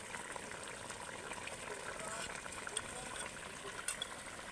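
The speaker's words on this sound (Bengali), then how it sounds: "মাছগুলো ঝোলের মধ্যে দেওয়ার পরেও কিন্তু খানিকক্ষণ ফুটিয়ে নেবেন" Koi fish curry bubbles steadily in a pot, a continuous soft, close hiss and simmer that holds at an even level throughout, with a few brief clinks near the end.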